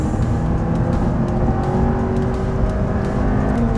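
A McLaren sports car on a track gives a steady, loud engine drone from inside the cabin, a continuous low rumble with no clear pause or change, and no talking.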